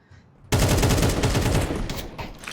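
Automatic gunfire in a competitive shooter match, a quiet lead-in then a sudden loud burst of rapid repeated shots that keeps going and slowly eases off.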